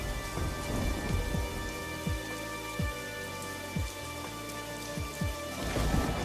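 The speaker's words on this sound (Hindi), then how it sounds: "वे दोनों आपस में बातें कर ही रहे थे कि तभी अचानक से जोर का तूफान आया" A heavy storm with steady, loud rain pouring down and repeated rolls and cracks of thunder, about six strikes in quick succession, with no voices.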